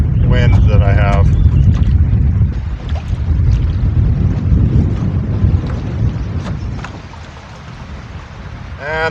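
Strong wind buffets a canoe on a high-water river, a heavy low roar of gusts battering the microphone, with faint water sounds and a voice now and then.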